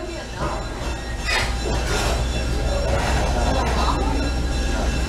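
A steady rumble of a moving train fills the space, with rattling carriage noise and faint wheel squeals, close and continuous throughout.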